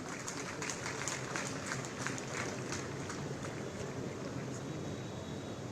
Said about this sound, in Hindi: जोरदार तालियां हो जाए इस ऐतिहासिक क्षण के लिए।